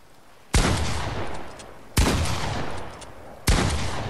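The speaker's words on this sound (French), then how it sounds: "Ah voilà, j'ai tiré." Three heavy gunshots ring out in a video game, each a sharp loud crack about a second and a half apart, followed by a long decaying boom and tail.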